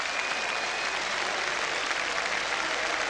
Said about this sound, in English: warm applause around the ground for Ali Dick